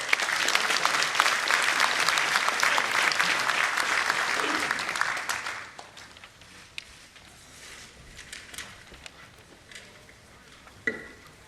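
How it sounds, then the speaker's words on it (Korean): Audience applause at a Korean People's Party central committee meeting, loud and dense as a speaker is welcomed, fading out after about six seconds into scattered claps and room noise. "여러분 큰 박수로 모셔주십시오."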